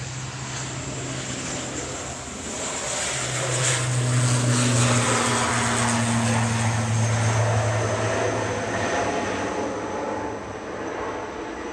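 An ATR 72-600 turboprop on its takeoff roll at Manchester Airport, heading to Guernsey: a steady propeller drone with a sustained low hum, building to a peak mid-way and then easing slightly, with no talking.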